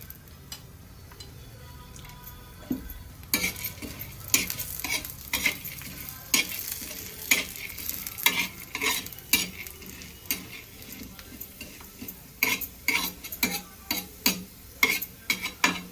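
Chana dal roasts in a pan with a soft, dry sizzle. Frequent sharp clicks and scrapes of the spoon being stirred against the pan run in a fairly regular rhythm, with no talk.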